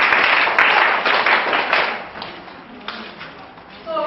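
A group of schoolgirls at a female hygiene session in Ibadan, Oyo State, clapping together in a dense, steady burst of applause that fades toward the end.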